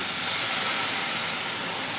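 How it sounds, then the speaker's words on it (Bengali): Water poured into a hot frying pan of fried food gives a loud, steady steaming hiss that fills all two seconds, with no talking. "যেহেতু ভাজা হয়ে গেল আমার এবার আমি জলটা দিয়ে দিচ্ছি"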